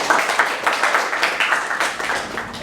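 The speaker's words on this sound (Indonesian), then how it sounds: "Tepuk tangan dulu." Classroom clapping from a group of students, a few seconds of uneven, fairly close hand claps with a loose rhythm that thins slightly toward the end.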